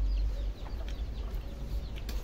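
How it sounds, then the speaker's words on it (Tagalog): Chickens clucking softly in a farmyard, a few scattered low clucks over a rumbling, noisy background, fairly faint and with no voices. "Yung mga manok."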